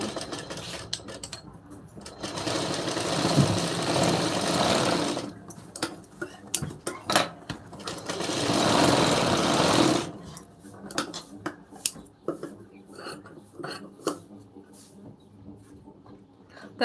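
A sewing machine runs in two sustained bursts while a blouse lining is stitched, with a steady whirring drone broken by short pauses. Lighter clicks and handling taps fill the gaps, and no one speaks.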